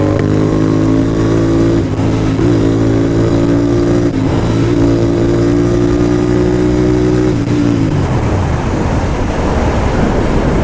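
A Royal Enfield Continental GT 650 with a loud aftermarket exhaust drones close by with a deep, throaty tone at a steady pitch, then its tone drops and fades into rough rumbling noise.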